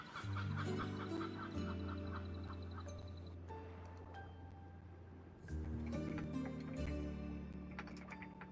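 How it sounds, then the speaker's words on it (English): Random bird calls, including kookaburras, played back during a Pokopia gaming stream, a dense loud chorus of quacking, clucking and crowing bird sounds with a two-part rhythm, no talking. "You hear the birds?"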